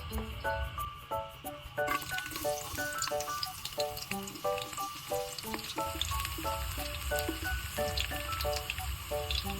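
Garlic frying in a wok for adobo, a steady close sizzle with crackling and spattering that carries on throughout, with occasional stirring and clinks over it and no talk.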